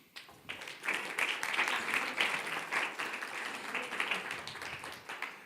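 Moderate applause from a conference audience after a presentation rises quickly and holds steady for about five seconds, somewhat muffled and distant.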